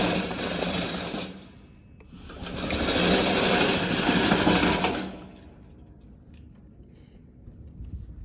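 Remote control lawn mower (VTC550-90) running with a steady buzzing motor hum that swells louder twice, then settles to a lower idle drone, close by with no talking.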